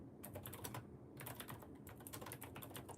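Fingers tap quickly on a computer keyboard, a burst of crisp, close keystrokes with a brief pause before the irregular clicking resumes and continues steadily.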